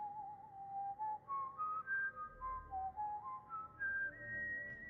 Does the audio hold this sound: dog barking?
no